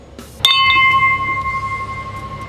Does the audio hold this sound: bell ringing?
yes